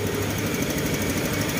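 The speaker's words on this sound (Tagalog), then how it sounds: "Ayan yung tunog ng kanyang makina." A Honda Beat or Click scooter engine idles close by with the seat removed, a steady low rumble with a fast ticking from the cam chain tensioner running through it, no talking.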